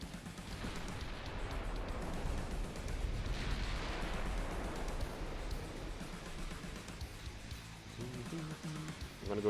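15-inch naval guns fire in the warship game Ultimate Admiral: Dreadnoughts, with heavy booming blasts and a rumbling roll that fades slowly. It sounds distant and sits under a soft game soundscape.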